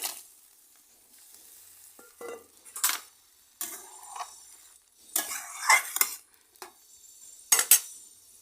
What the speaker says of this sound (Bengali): লবণটা দেবো না এবার একটু হলুদ দিয়েছি আর এখন কামরাঙাটা দিয়ে দিচ্ছি